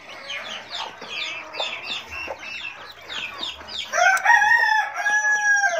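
A hen and her newly hatched chicks cluck and chatter in quick bursts close by, with higher, sharper calls growing louder toward the end.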